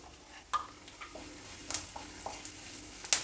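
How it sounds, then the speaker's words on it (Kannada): Curry leaves and turmeric powder frying in oil in a pan for tomato pongal, with soft sizzling and a few sharp stirring clinks and scrapes of a spoon against the pan, close and quiet. "ಈಗ ಎಲ್ಲ ಚೆನ್ನಾಗಿ ಫ್ರೈ ಆಗಿದೆ"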